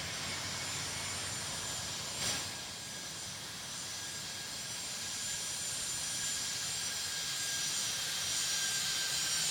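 In the Tower Simulator 3 game, a jet lands with its reverse thrusters open, a steady, distant broadband roar that swells gently, with one brief thump early on.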